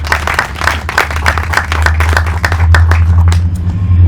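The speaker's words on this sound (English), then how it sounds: "I want you to give them a big round of applause for their team's hard work." A crowd claps at an outdoor ground breaking ceremony for an urban farm, loose individual hand claps close by over a low, steady rumble of traffic or wind.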